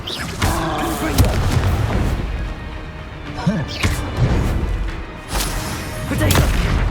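Confringo fire spell blasts in Hogwarts Legacy go off as several loud booming impacts spread across the span, with a voice speaking over them at times.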